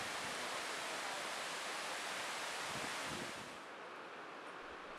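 Steady, loud roar of a large waterfall at Plitvice Lakes in Croatia, a dense broadband rush of falling water heard up close that drops slightly in level near the end, with no voices.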